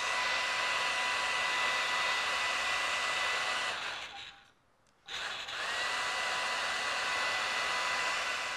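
A hair dryer blowing on a painted MDF decorative plaque, a loud steady whooshing whine that drops out briefly for about a second midway, then starts up again and runs on.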